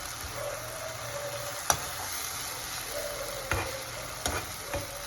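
Tomato, onion, green chili and ginger fry in a pan for a fish curry, a steady soft sizzle with a few sharp spatula scrapes and taps scattered through, close and without any voices.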